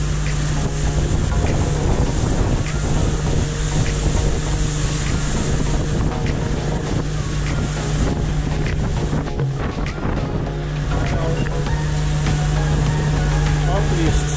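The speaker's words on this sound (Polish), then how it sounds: "Oczywiście tu są fale." Waves slap on a lake in strong wind, a steady broadband rush with heavy wind buffeting on the microphone and a low drone throughout.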